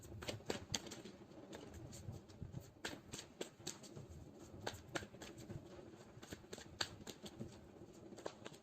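Tarot cards are shuffled in a quiet room, giving a faint run of soft, quick riffling flicks and taps spread irregularly through the whole stretch, with no voices.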